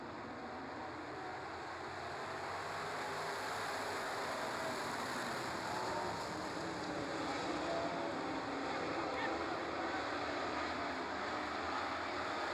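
Super trucks roaring off at the start of a feature race on an oval track, a dense continuous engine din filling the clip at a steady, fairly distant level with no break.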